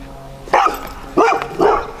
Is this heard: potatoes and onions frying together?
no